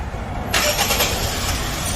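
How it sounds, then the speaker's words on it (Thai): Honda Brio hatchback engine cranking and catching about halfway through, then settling into a steady idle, heard close without any talking; the car is parked and has an air-conditioning refrigerant fault. "ต่อไปแล้วก็จะสตาร์ทรถนะครับ"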